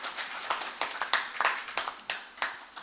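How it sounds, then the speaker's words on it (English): Scattered, uneven hand claps from a small group at a breakfast meeting at the Las Vegas Hotel in Mbarara City, honouring Pharm-Biotrac; individual sharp claps sound fairly close and loose in rhythm. "Can we give a round of applause to the Pharm-Biotrac?"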